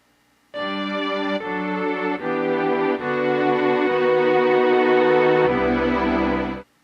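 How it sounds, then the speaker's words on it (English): Sustained sampled "Phantom" string chords on a Nord Stage 4 keyboard, several held notes changing every second or so, smooth and full, playing alone without talk. "Here we have the Phantom strings."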